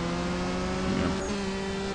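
Game car in CSR2 launching from the line and shifting up through second and third gears, a steady loud engine drone with a brief surge near the middle, no voices.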